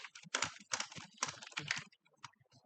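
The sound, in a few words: typing on a computer keyboard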